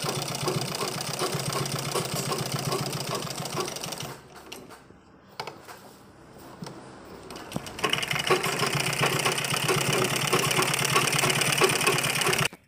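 A sewing machine stitches a patch onto the back neck of a kurti, running in a steady, dense whir for about four seconds, pausing briefly, then whirring again strongly until the end.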